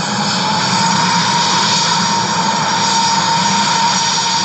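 An Egypt Air passenger airplane landing in light rain gives a steady, loud, broadband engine roar with a sustained whine that holds throughout, with no voices.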